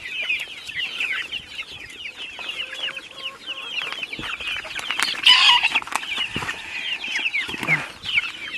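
A hungry flock of about a hundred farm chickens clucks and squawks steadily, waiting for a scattered feed mixture; the dense chatter runs throughout, with a louder burst of calls midway and no talk.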